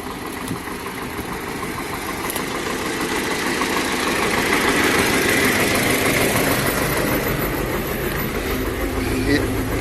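A YuMZ-6 tractor engine pulls a three-furrow plough through damp field soil in second gear, a loud, steady mid-range diesel drone with a knocking rhythm that runs continuously throughout.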